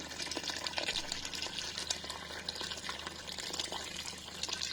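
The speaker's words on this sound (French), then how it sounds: "Là j'ai déjà mis l'équivalent de 2 litres. Je vais en rajouter." Water pours steadily into a pot for vegetable soup, a continuous splashing, bubbling stream heard close and alone throughout.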